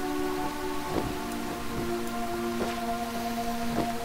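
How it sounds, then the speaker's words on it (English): Steady rain hisses down in the video game Owlboy, an even wash of falling drops with soft, sustained game music tones playing over it. "Ah, sweet rain."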